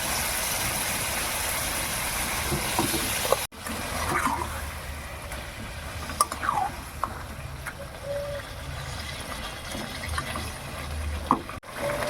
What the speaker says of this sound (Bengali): গ্রেভিটা ফুটে এসে গেছে, বেশি করে জল দিইনি বন্ধুরা, এর মধ্যেই ফুটবে।